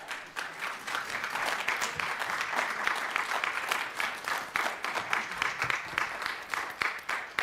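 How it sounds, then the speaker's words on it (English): An audience at an Albany State event gives a standing round of applause, steady dense clapping that runs throughout, moderately distant and alone. "we owe her a standing round of applause"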